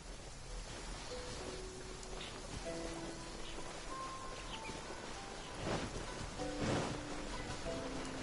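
Rain falling in the video game Genshin Impact, a steady soft hiss and patter that runs throughout, with faint musical tones drifting over it and no talking.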